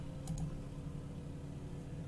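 Keys on a computer keyboard tap a few times during an online game session, faint and muffled under a steady hum of background noise.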